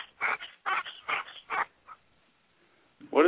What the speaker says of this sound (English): What is that noise? Is that someone's dog?